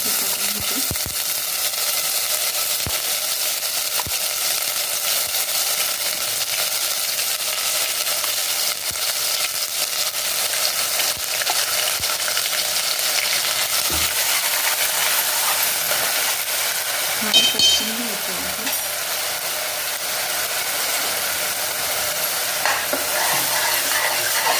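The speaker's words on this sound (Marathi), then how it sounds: "इथे वाटण छान भाजून घ्यायचं आहे. छान तेल सुटेपर्यंत भाजून घ्यायचं आहे." Ground homemade masala paste roasts in oil for a country-style chicken curry, a continuous close sizzling hiss with constant scraping strokes of the spoon stirring through it, no voices.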